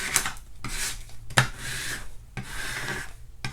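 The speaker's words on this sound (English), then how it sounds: "Your XL scraper tool and really work that down." An XL scraper tool rubs down a vinyl decal on a window in firm back-and-forth strokes, four or five raspy scrapes close by with a sharp tap in the middle.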